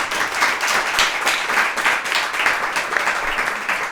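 An audience at a breakfast event with motorcycle racer Miguel Oliveira applauds, with lively, steady clapping from many hands that holds for several seconds with a few cheers mixed in.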